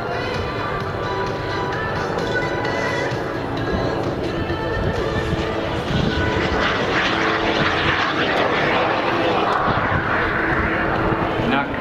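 A Shark Jet jet-powered glider flying at an air show, its engine giving a continuous, loud roar that swells slightly toward the end while someone talks over it.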